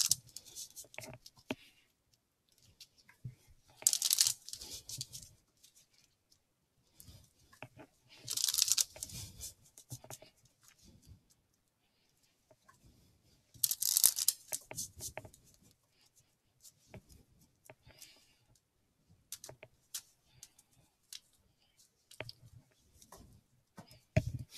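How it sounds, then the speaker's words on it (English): Cards being shuffled and pulled from a Romance Angels Oracle deck, with several brief bursts of riffling and snapping separated by quiet stretches, close and crisp, with faint scattered handling noises between. "Now I'm going to pull a card from the Romance Angels Oracle deck by Doreen Virtue"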